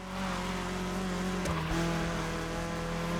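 A BMW E30 3 Series driving in The Crew Motorfest racing game, its engine holding a steady drone with a brief tire squeal or skid partway through.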